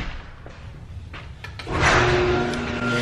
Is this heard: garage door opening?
yes